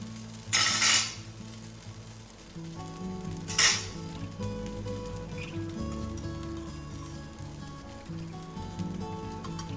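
Benne dosa frying on a hot pan, with a steady close sizzle and two louder bursts of hiss and scrape as the dosa is turned, under a soft tonal hum in the background.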